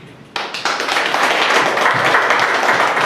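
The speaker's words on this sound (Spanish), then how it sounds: "Fuerte el aplauso también al licenciado Santiago Peña" Audience applause at a La Luz del Mundo church freedom forum, beginning with a few scattered claps and swelling within a second into loud, sustained clapping that fills the room.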